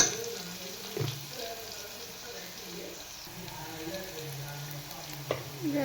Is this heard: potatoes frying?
yes